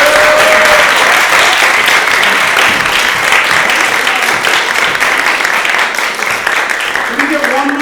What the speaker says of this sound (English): Can we get one more big round of applause for our 4 Funny Bone Mafia members?